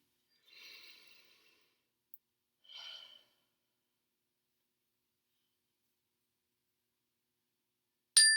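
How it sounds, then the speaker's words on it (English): A slow, deep inhalation during a guided mindfulness breathing exercise: two soft, airy breaths, faint and close, in otherwise quiet surroundings with a brief click near the end. "Take a nice breath in."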